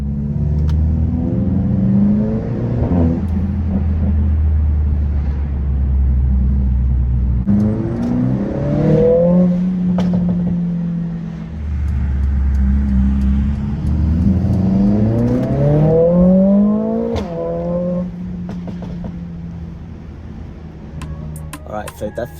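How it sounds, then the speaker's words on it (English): A Mercedes AMG with its exhaust in race mode accelerates through repeated gear pulls, revs climbing and dropping in waves with deep low burble between them and crackles near the end. "let's go for a nice POV quick drive and then hear the sound of the exhaust"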